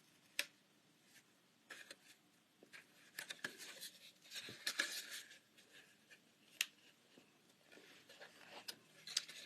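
Paper card for a Book Jacket fun fold being creased and pressed by hand, soft close rustles with scattered light taps and ticks, quiet, no talk.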